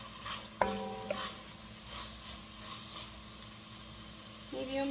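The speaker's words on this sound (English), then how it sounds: "Now we're going to add the pepper. I'll let that saute a little bit." Pepper sautéing in a soup pot for ham and vegetable soup on a gas stove over medium heat, a low steady sizzle with a few sharp clinks from a utensil against the pot near the start and end.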